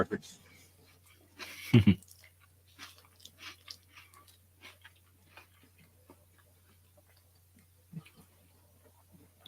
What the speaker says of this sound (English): Can you hear me crunching tonight?